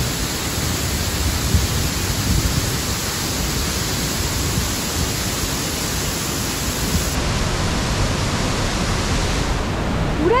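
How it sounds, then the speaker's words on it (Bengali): Kanchenjunga Falls near Pelling, a snowmelt-fed mountain waterfall, roars as a steady, dense wash of rushing water, loud and continuous throughout with no voices. "অবশেষে আমরা এসে পৌঁছালাম কাঞ্চনজঙ্ঘা ওয়াটারফলসে।"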